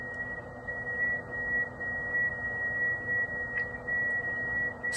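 An FT8 transmit tone from an Icom IC-7300 ham radio transceiver, a thin steady whistle sitting over a constant bed of hiss and hum, unbroken for several seconds.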